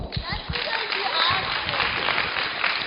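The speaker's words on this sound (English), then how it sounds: "Give him a round of applause." An audience at a youth Buddha's Birthday celebration at a monastery in Canada claps in a steady, moderately loud round of applause, with a speaker's voice continuing over it.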